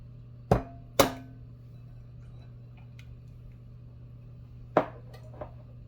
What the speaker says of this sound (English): don't hit eggs with a whisk. That's what I'm doing here.